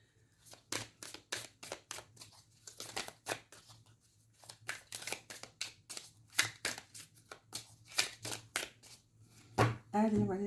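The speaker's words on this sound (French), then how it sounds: "on va prendre une carte de l'oracle d'Amahan" Oracle cards being drawn and shuffled: a long run of quick, crisp riffling flicks and slaps in close, irregular bursts, with a brief voice near the end.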